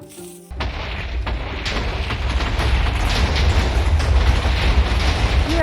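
TNT blasts a hole into a hill in Minecraft survival, a sudden booming explosion followed by a sustained loud rumbling roar that holds steady close by.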